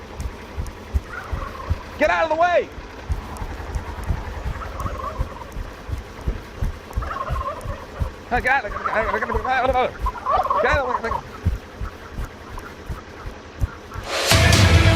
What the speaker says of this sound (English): damn turkeys are on the way.